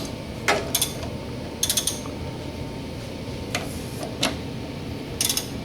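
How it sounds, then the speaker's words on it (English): A 13mm ratcheting wrench loosens the fence bolts on a planer bed, producing several short bursts of close, crisp ratchet clicks separated by pauses over a low steady hum. "So he's going to take the 13mm wrench and loosen the fences."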